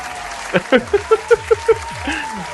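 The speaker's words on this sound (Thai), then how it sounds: "ขอบคุณครับผมสำหรับเสียงปรบมือครับ" A short burst of applause sound effect from a livestream donation alert, about seven distinct claps in an uneven rhythm, recorded up close with a faint tonal hum underneath.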